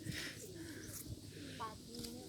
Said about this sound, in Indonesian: Nah, iya, merpati kapas tuh.